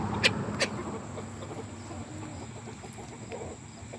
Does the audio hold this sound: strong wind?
no